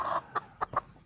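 Two young cross-bred roosters giving short soft clucks, four brief calls in about a second, close and fairly quiet, with no talk.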